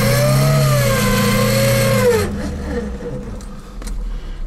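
A 1.9-litre car engine revs up in low second gear with a rising, strained pitch, then drops off and settles into a lower rumble with road noise.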